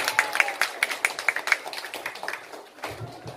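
A small group at a neighbourhood campaign gathering claps in a brisk, fairly regular rhythm of distinct nearby handclaps that thin out and fade after a few seconds.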